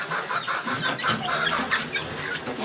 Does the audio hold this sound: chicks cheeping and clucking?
yes